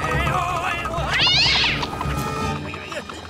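A cartoon kitten lets out a rising, squealing meow in the middle of busy animated-series audio, with a bright whine sweeping upward and fading against background music and effects.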